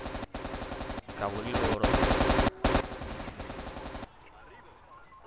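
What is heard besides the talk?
gunfire in a video game, troops shooting at armored vehicles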